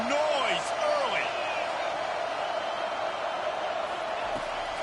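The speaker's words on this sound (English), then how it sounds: "This crowd bringing the energy and noise early." Stadium crowd in a College Football 25 game of Clemson at Mississippi State, a broad continuous roar with whistling and shouts, steady and loud throughout, while commentary plays over it.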